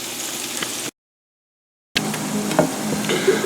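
Deer backstraps and tenderloins frying in a pan, a steady broadband sizzle at moderate loudness, cut off briefly by a stretch of silence before resuming.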